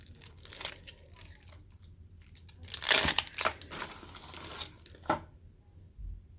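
A sealed starter deck package of trading cards being ripped open by hand, giving close crinkling and tearing of wrapping in uneven bursts, loudest midway, then fading.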